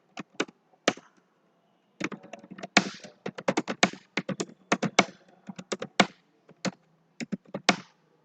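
Rapid clattering keystrokes on a computer keyboard entering data into a table, in irregular bursts with short pauses, close and fairly quiet with no talking.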